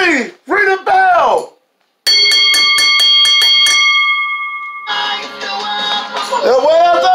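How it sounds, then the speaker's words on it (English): A wrestling ring bell clangs in a quick series of bright, ringing strikes after a match ends, with an announcer's voice before and a noisy arena crowd swelling after. "Ring the bell."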